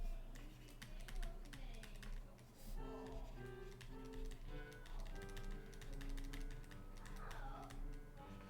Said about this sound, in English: I'm gonna switch to typing maybe a little bit on here